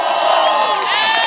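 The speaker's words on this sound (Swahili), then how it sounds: "Shangilia president wetu kwa makofi." A crowd cheers and whoops for the president at a public address, a loud, dense burst of voices heard up close for about a second.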